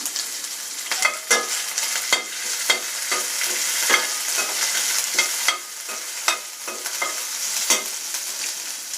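Spices fry in a pan with a steady sizzle and repeated scraping stirs, a bright crackling hiss throughout and no talk.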